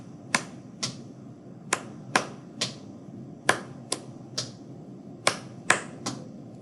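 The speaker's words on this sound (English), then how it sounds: "Clap, clap, stomp, clap, clap, stomp." Hand claps and foot stomps in a rhythmic clapping exercise during a music lesson, sharp percussive hits coming in short groups with brief pauses, close and clear over a quiet room.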